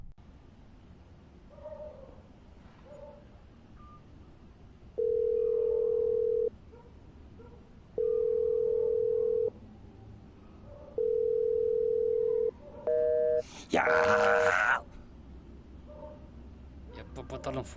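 A phone gives a busy tone after a call is hung up: three long steady beeps with even gaps, then short beeps and a burst of noise, faint room ambience between.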